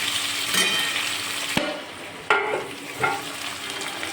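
Malabar spinach and boiled potato sizzle steadily in a hot pan, broken by a few sharp clacks and scrapes of stirring, close and moderately loud with no talking.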